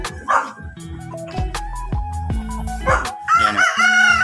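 Young roosters crowing on a small farm, a nearby crow rising over other birds, with a dog barking among them and a second crow toward the end.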